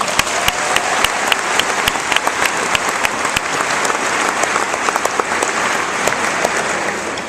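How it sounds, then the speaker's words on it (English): A graduation audience applauds family and friends in a sustained, steady round of dense clapping that fills a large space, loud and continuous throughout. "so let's give them all a round of applause."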